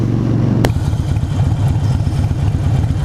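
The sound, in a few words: Harley-Davidson Sportster motorcycle engine rumble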